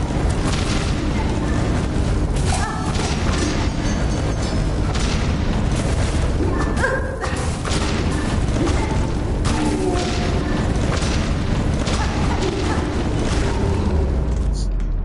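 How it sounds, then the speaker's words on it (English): Exploding enemies in Hollow Knight Silksong, a run of deep booms and bursts layered over dense game sound effects, loud and near throughout the stretch. "Can't forget, those guys explode."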